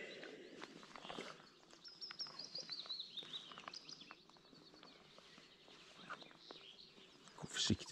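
Birds calling by a lake, scattered chirps and a thin descending whistle over faint splashes and quiet rustling, distant and soft with no talk.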